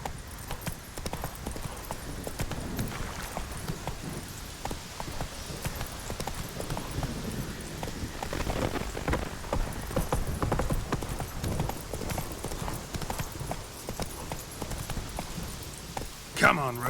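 Hooves of the horse Roach in The Witcher 3 (next-gen, Xbox Series X) beat a steady galloping clip-clop throughout, with a rider's voice speaking over the hoofbeats.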